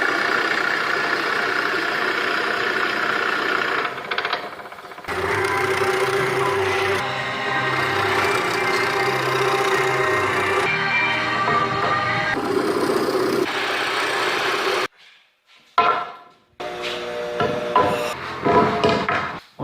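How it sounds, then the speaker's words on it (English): A drill boring and countersinking 3/8 inch holes through 2x4 boards for a butcher block workbench, a steady loud whine that runs for long stretches, stops briefly, then comes back in shorter uneven bursts. "before drilling the 3/8 inch hole through there, is we're going to countersink it"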